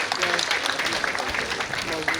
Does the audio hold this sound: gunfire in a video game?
no